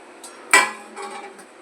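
A clattering clink of vegetables dropping into a metal pot for paneer dum biryani, one sharp impact followed by softer rattles and settling, close and fairly loud with no talk.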